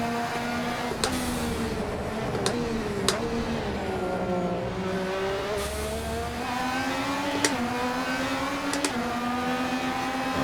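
A Fenix P30 LMP1 race car engine in a racing video game drones loudly and steadily. Its pitch rises and falls as it shifts gears and brakes into corners, with short clicks mixed in.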